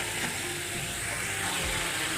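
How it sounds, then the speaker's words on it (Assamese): Spices with salt and turmeric fry in a pan for a pigeon meat curry, giving a steady, close, dense sizzle that holds without pause and with no talk over it. "অলপ টাইম মছলাখিনি ভাজি লোৱাৰ পিছত ধুনীয়া কৰি মছলাখিনি ভাজা হৈ গৈছেগৈ"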